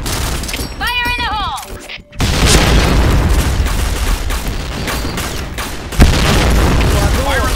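A grenade blasts during a Point Blank match, a sudden deep boom that rolls into sustained rumbling and crackling gunfire, with a second hard impact later; game voice effects and talk sound over it.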